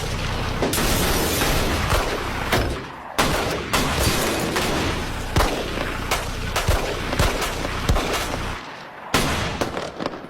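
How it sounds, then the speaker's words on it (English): Gunshots ring out inside a school building during a dramatized reconstruction of the Columbine shooting: loud, sharp cracks and booms at irregular intervals over a dense, noisy backdrop, with no clear talk. "Shots fired. Shots in the building."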